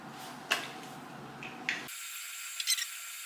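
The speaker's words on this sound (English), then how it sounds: "I also want to use this thickening spray at the root." A few short hissing spray bursts from an aerosol can of hair thickening spray applied at the roots, quiet and close, separated by brief pauses with faint handling noises.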